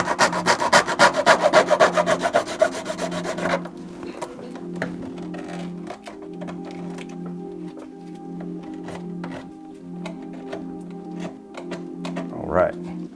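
A hand saw cuts through a plastic plumbing flange tee during a garbage disposal installation, first a fast, loud run of rhythmic strokes, then quieter scraping and a few clicks.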